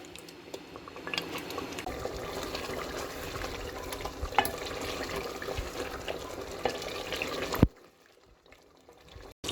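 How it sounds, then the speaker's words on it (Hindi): Kaleji (goat liver) masala roasting in a handi, with a steady, fairly close sizzle and stirring for about seven and a half seconds before it cuts off to near quiet. "अब हम इसकी भुनाई कर लेंगे 10 मिनट तक।"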